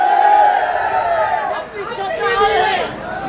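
Crowd at a political rally in India, a dense murmur of many voices close by, rising and dipping briefly, with someone speaking loudly over it.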